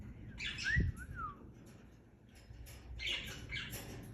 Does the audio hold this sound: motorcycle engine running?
no